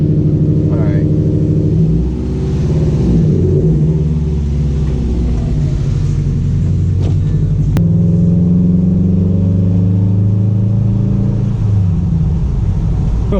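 A 2019 Subaru STI with a Remark axle-back exhaust rumbles deep and loud from inside the car, its engine note rising and falling through revs.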